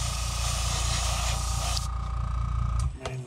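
A spray can dusting paint onto a crankbait fishing lure, a close steady hiss that cuts off near the end, followed by a few small handling clicks.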